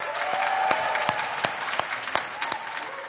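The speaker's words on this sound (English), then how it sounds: "And she gets a round of applause." A round of applause from an audience at a speech, replayed as a recording: moderately loud crowd clapping with several sharper individual claps standing out, no talking on top.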